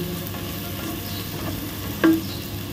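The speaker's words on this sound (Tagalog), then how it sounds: "Pag-brown natin ang ating bawang." Garlic sizzles steadily in a pan of hot oil over medium heat, a constant close frying hiss broken by a brief stir or clink near the end.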